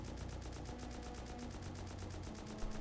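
Sustained automatic fire from the new M2 heavy machine gun in the Rust video game, a fast, steady stream of evenly spaced shots held for the whole burst at constant loudness.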